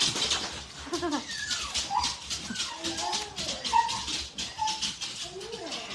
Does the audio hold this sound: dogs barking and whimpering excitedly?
yes